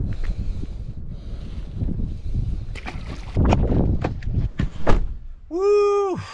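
Wind gusts buffet the microphone on a saltwater fishing trip at high tide, making a low, uneven rumble. Scattered knocks and a short rising chirp come near the end.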